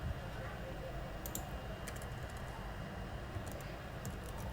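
Typing on a computer keyboard during a Laravel coding session, scattered light key clicks over a steady background hum, with no speech.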